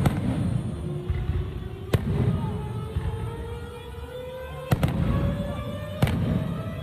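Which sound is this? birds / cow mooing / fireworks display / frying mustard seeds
fireworks display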